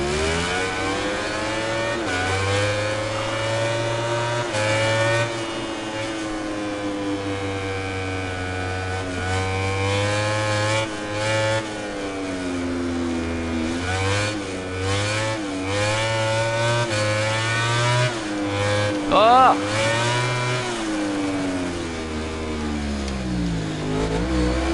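A motorcycle engine in MotoGP 19 revs continuously during a wheelie, its pitch rising and falling in waves, loud and close, with a brief sharper surge late on.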